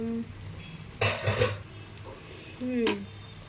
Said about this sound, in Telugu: ఇప్పుడు మనం మూత ఓపెన్ చేద్దాం